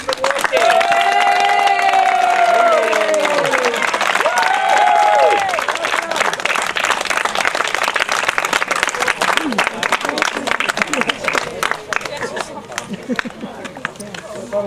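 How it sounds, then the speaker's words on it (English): Crowd applause and cheering at a presentation for the 2018 Tulloch Cup winners, loud and dense from the start, with whoops and shouts over the clapping early on and the clapping continuing steadily as the cheers fade. "So guys, a big round of applause for the winners of the"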